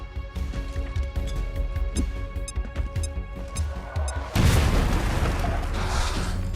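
A grenade blast in the tactical game XCOM: Chimera Squad, one sudden loud explosion midway that leaves a lingering rumble, following a stretch of game music and sound effects.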